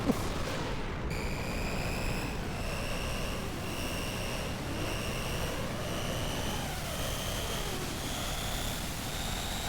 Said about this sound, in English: My God, Deus is still exploding.